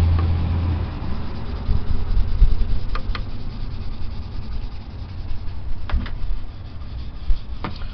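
A toothbrush loaded with baking soda scrubs a hazy car headlight lens, giving close, continuous rough brushing strokes with a few sharper scrapes and no talking.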